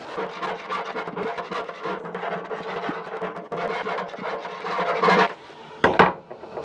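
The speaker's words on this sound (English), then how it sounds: "I need to file a bit off the bottom of this side and the top of the other side" Hand file rasping across a plasma-cut metal part, a steady run of dense, close scraping strokes that ends in a couple of louder, sharper passes.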